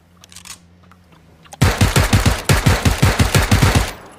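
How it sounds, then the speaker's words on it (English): Rapid bursts of automatic gunfire in a battle royale video game start suddenly after a quiet moment, loud and close, with repeated sharp shots in an uneven rhythm. "Already shooting?"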